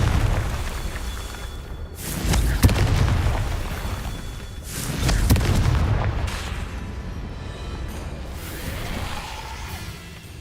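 Repeated fiery spell blasts from the Confringo casting in Hogwarts Legacy, a series of loud booming bursts near 1, 2.6 and 5 seconds, each trailing into a rumbling, crackling decay over steady low background noise.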